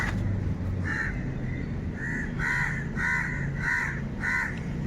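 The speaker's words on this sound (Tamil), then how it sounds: "மயில் கத்துற சவுண்டு கேக்குதா" Loud, nasal honking calls of peacocks repeat in a series of short bursts over a steady background hum, fairly close.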